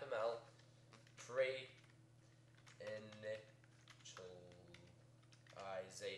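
Computer keyboard clatters in short bursts of keystrokes while entering code for Minecraft Forge modding, with a person talking over much of the typing at a fairly quiet level.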